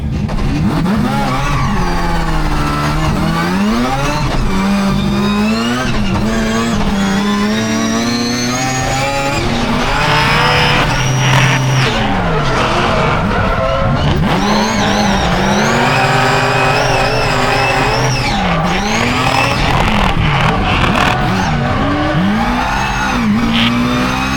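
A race car engine screams at full throttle, revving hard and dropping through gear changes again and again, loud and close with no pauses.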